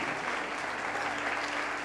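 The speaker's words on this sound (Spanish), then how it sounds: "Vamos a darle un aplauso para animarlos a todos los que se van a bautizar" Steady applause from a church congregation at a baptism service, a continuous dense patter of many hands clapping throughout with no talking.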